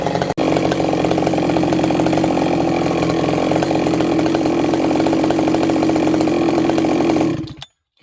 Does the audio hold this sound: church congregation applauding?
no